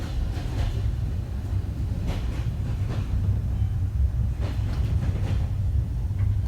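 A passenger train runs along its rails, heard from inside the carriage as a steady, close low rumble with faint rhythmic clatter that continues evenly throughout, with no one talking.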